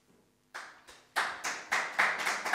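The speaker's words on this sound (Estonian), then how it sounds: "esimene aplaus" Brief applause at a public meeting on administrative reform in Orissaare, starting with a few scattered claps, then swelling into a short burst of rhythmic clapping from a small audience.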